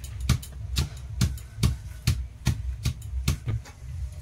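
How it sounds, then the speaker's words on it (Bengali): A knife chops tomatoes on a board for dal in a home kitchen, making about ten sharp, evenly spaced cuts that sound near and fairly quiet, with no talking. "টমেটো কেটে নিচ্ছি ডালের জন্য"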